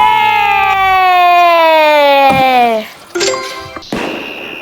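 Bombs in the Roblox game Super Bomb Survival whistle in with a loud descending tone for nearly three seconds, followed by sharp blasts and crackling debris, with a player talking over the action.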